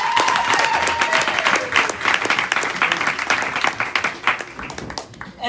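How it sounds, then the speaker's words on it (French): A crowd at a graduation celebration applauds for the older sister, dense, continuous clapping throughout with a brief whistle near the start, easing slightly at the end. "Est-ce qu'on peut applaudir pour Asnat?"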